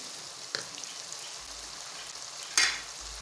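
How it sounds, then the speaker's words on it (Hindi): Chicken mince fries in a pan with a faint, low sizzle and two distinct scraping knocks from stirring. "कीमा अच्छे से भून चुका है।"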